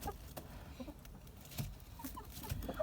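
Several chickens cluck softly inside a mobile chicken coop, with short scattered calls over a low, steady background; no one speaks.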